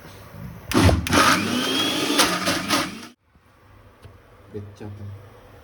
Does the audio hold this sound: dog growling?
no